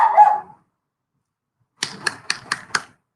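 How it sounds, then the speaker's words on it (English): Pet dogs at home let out a quick burst of about five sharp, close barks in rapid succession, following a short muffled sound and a pause of silence. "Let's hold on for a second as my dogs just bark away."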